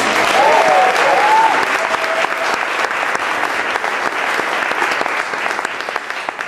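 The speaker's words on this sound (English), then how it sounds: "give a big round of applause to the volunteers who decorated the barn today" A crowd applauds the volunteers who decorated a barn during a hobbit-themed hike event, a loud, sustained round of clapping that gradually eases, with a brief whoop near the start.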